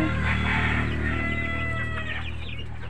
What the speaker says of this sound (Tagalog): At kumusta na yung ating mga inahin dito sa ating brooding pan?